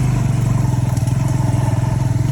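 A small 10-horsepower motorcycle being ridden uphill on a rural village road, its engine putting out a steady, close throbbing drone with a fast regular pulse and light mechanical clatter throughout.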